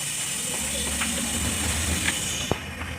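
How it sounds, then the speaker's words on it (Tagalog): A steady high-pitched hiss of air escaping through leaking valves in a resurfaced Suzuki F6A engine cylinder head, continuous and fairly close, with a faint click near the end. "kung naririnig nyo, sumisipol yung hangin. So, ibig sabihin singaw."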